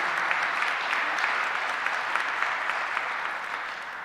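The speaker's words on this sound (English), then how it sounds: "please give them a round of applause for leading the way with the Mission Real Estate program" An audience at a Mission Real Estate program event claps steadily in a brief, even round of applause, moderately loud with no voices over it.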